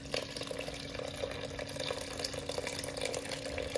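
Water pours steadily into a sourdough mixing bowl for the dough, a soft continuous splashing trickle heard faintly and alone.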